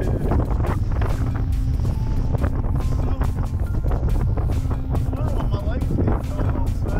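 Strong wind buffets the microphone on a small fishing boat in rough water, a constant loud roar with gusty thumps and spray. People talk over it at times.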